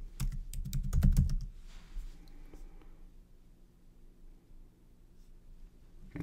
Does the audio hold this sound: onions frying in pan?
no